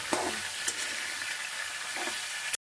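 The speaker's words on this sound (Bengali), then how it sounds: "এগুলো হালকা ফ্রাই করে নিলে হয়ে যাবে বেশি ভাজার দরকার নেই" Vegetables for dalma fry lightly in a pan with a continuous, even hiss and sizzle, with a few faint stirring knocks close up and no talking.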